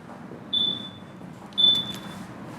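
Two thin high-pitched electronic beeps from a 2019 Yamaha XMAX scooter warning that the ignition is still on, a short pause between them, faint against a quiet low background hum.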